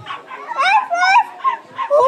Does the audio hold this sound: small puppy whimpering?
yes